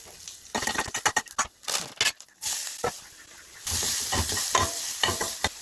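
Mustard seeds, urad dal and dried chilli hit hot coconut oil for a raw jackfruit thoran, giving bursts of loud crackling sizzle and popping, with stirring clatter, that settle into a steady close fry.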